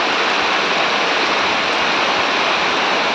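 Heavy downpour roars steadily and loudly throughout, a thick unbroken wash of falling water with no voices.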